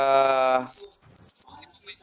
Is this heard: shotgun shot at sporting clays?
no